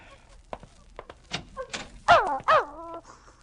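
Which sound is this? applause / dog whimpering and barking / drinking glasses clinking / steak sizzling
dog whimpering and barking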